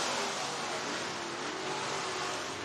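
IMCA modified race cars in a heat race at Boone Speedway in Boone, Iowa, with a steady, dense engine roar from several cars running together, continuous and fairly distant with no sharp passes.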